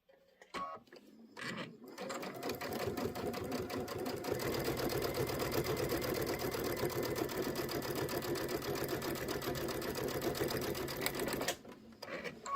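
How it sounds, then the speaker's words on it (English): A sewing machine stitches quilt fabric onto muslin, a few starting thumps giving way to a steady, fast mechanical whir that runs unbroken for about ten seconds before stopping. "Sewing a little bit off my fabric"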